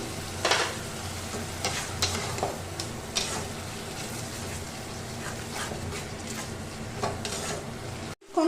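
Chicken keema stir-fried with salt in a pan, a continuous close sizzle broken by regular spatula scrapes and taps against the metal, with no voices.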